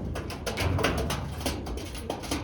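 Crowded flock of pigeons on a rooftop loft, soft cooing and fluttering wingbeats rising in repeated bursts, close and fairly loud, with no voices.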